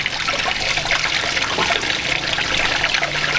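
Soapy water trickles and drains steadily from a car's coolant system during a DIY flush, a continuous close, watery stream with no talking.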